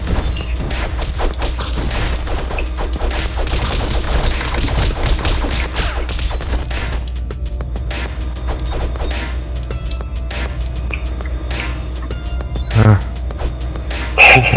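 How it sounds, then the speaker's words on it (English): Boss in the Castle Crashers video game firing projectiles, a dense barrage of rapid cracking impacts and bursts over background music, thinning out partway through, with a couple of louder hits near the end. "Oh, it's shooting them at us."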